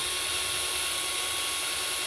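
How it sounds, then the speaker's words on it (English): Power drill boring pilot holes for a deadbolt latch plate in a door, a steady loud whir held continuously and close, with no talking. "I'm going to just drill a few pilot holes here"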